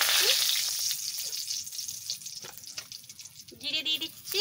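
Bay leaves drop into hot oil and sizzle with a bright, crackling hiss that gradually settles, followed by a brief voice-like sound near the end.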